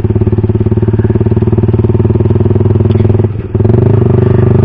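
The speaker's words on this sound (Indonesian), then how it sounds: "ketika ditutup juga dia memang cukup meredam suara dari knalpot itu sendiri" A motorcycle idles with its exhaust muffler valve closed, a steady, muffled exhaust rumble, a brief dip near the end before the even chugging resumes.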